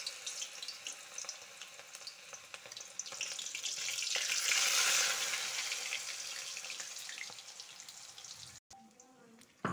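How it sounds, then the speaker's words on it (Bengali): Banana flower fritter batter mixed with rice flour, turmeric and salt is poured into hot oil in a wok and fries. A steady, broad sizzle swells and then settles, close and fairly loud, with no talking. "চালের গুঁড়ো হলুদ নুন দিয়ে মেখে থাকা মোচাটা ঢেলে দিচ্ছি কড়াইতে"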